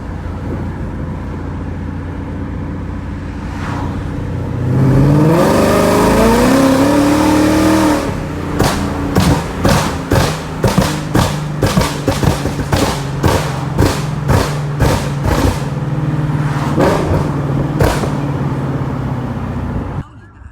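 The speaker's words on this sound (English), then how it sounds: "I'm gonna upload a video of what the popcorn tune sounded like. I'm warning you, it's very obnoxious." Ford Mustang GT with a Borla exhaust and popcorn tune revs hard, rising then dropping, followed by a long string of sharp rapid crackles and pops, loud and close.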